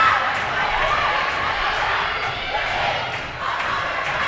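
A rowdy crowd of high school fans at a varsity volleyball match, Monarch against Frederick, shouts and cheers in a loud, continuous roar, with an announcer's voice talking over it.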